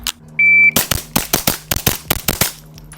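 After a shot timer beep, a suppressed Ruger Mark IV .22LR pistol fires a fast string of roughly ten sharp, close cracks at a steady rhythm.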